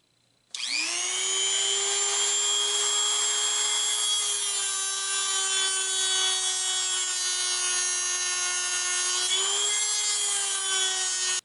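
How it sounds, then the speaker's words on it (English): Dremel rotary tool grinding excess pecan wood off knife scales, a close, steady high-pitched whine that starts abruptly and holds for about eleven seconds, dipping briefly once under load. "I'm going to try to remove as much of this excess wood with the Dremel tool as I can"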